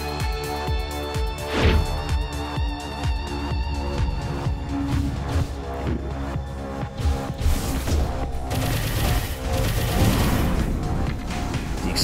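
Dense, continuous explosions and missile fire from the video game Overload fill the whole stretch, with repeated booms, crashes and whooshing blasts layered loudly over one another.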